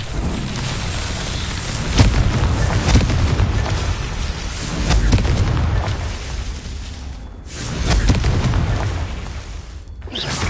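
The Confringo blasting spell in Hogwarts Legacy on PS5 explodes against rocks, loud booming blasts with rumbling debris that surge and dip over about ten seconds.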